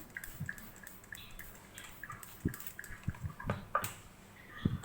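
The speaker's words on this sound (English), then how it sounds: "Just wet them with water." Water dabbed onto pieces of naan dough by hand in a home kitchen before they go on a preheated griddle, heard as a few soft scattered drips and wet pats, faint and irregular against quiet room noise.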